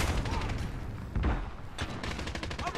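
Dense, rapid gunfire from the video game Call of Duty Modern Warfare, with overlapping bursts of shots filling the whole moment, loud and close.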